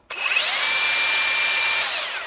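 A Ryobi 18V One+ brushless cordless belt sander on a 1.3 Ah battery whirs up abruptly and runs at a steady high-pitched whine, close and loud, with no talking.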